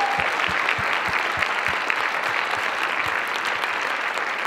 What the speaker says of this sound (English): Can we please give them all one giant round of applause again?